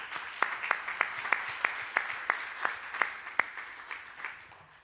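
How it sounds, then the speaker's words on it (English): Applause from the audience at the International Water Dialogues 2023 sounds sparse and fairly distant, with distinct, roughly evenly spaced claps over a quiet room. "So a big round of applause to everybody here."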